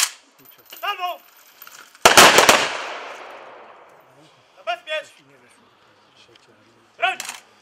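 An honor guard fires a ceremonial rifle salvo outdoors at a commemoration, one loud simultaneous crack with a long fading echo, set between shouted drill commands before and after.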